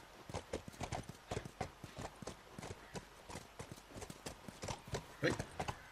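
A horse walking in the video game The Last of Us, steady clip-clop of hooves in an even rhythm, close and moderately loud throughout.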